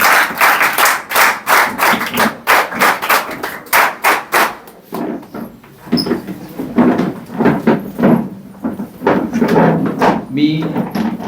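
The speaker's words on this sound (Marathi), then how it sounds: "त्यांच्या जोरदार टाळ्या" Applause from an audience at a welcome ceremony of a guidance camp in a school hall, coming in uneven bursts of clapping that rise and fade over several seconds, with voices mixed in.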